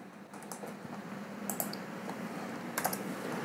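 Typing on a computer keyboard, with quick clusters of light key clicks at close range over a quiet background.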